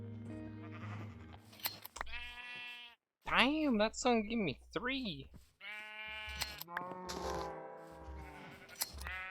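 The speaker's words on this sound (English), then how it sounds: "I guess we have a lot of sheep in here" Sheep bleat in Minecraft: several wavering, nasal bleats come in bursts, loud and close, mixed with a person talking over them.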